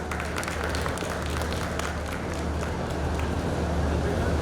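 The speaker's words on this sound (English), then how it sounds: "Please welcome ma'am with applause on stage." An audience at a design confluence event in Lucknow applauds as a panelist is welcomed on stage, a dense, steady wash of clapping from a crowd, with faint chatter beneath.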